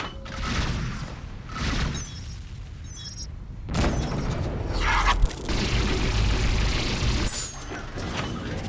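Explosions from incoming missiles in the space combat game Rebel Galaxy: a run of loud booming blasts and rumbling impacts, with a sharp hit near the middle and continuous heavy low-end roar throughout.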